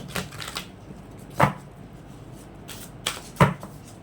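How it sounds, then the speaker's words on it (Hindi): Tarot cards handled from a deck: crisp papery flicks and snaps recur at irregular intervals, with two sharper card slaps standing out, close and fairly clear with no talking. "इस डेक से कार्ड नहीं लिया है, तो इस डेक से आज कार्ड लेते हैं"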